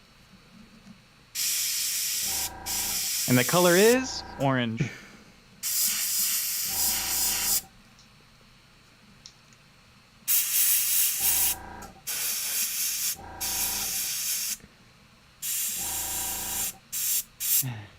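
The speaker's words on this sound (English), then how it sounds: "I'll spray on this purple," Aerosol spray paint hisses onto Warhammer 40k Kill Team Sister Novitiate miniatures in a series of loud bursts of a few seconds each, split by pauses. A whistling, warbling tone is heard among the early bursts, and a voice speaks briefly.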